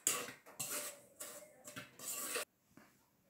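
A spoon stirs burger bun dough ingredients, powdered sugar and yeast, in a bowl, four or five scraping, clinking strokes close up with brief pauses, then quiet.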